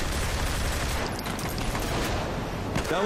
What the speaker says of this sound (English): But I do like how they're all using pistols.